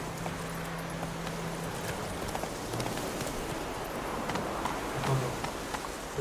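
Horse hooves gallop in The Witcher 3, a steady clip-clop running beneath wind and ambient game noise at moderate level, with no voices over it.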